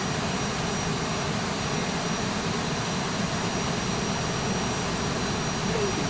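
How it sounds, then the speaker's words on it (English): Constant jet engine roar at an airport during an aircraft pushback in the X-Plane 11 flight simulator, a loud, even whine and rumble that never changes, with no voices. "Starting pushback."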